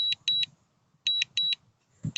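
A DJI Mini 3 drone sounds a warning alert in pairs of sharp, high, even beeps. Two doubled bursts are separated by a pause, and a third starts at the end, over faint low background noise.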